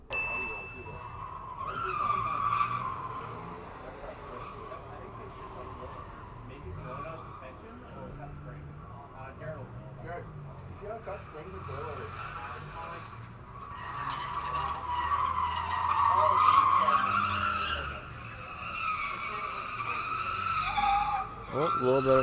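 Subaru BRZ drifting at a drift day, tires skidding and squealing in long sustained stretches over a revving engine, loudest toward the middle and end of the run, with occasional talk over it.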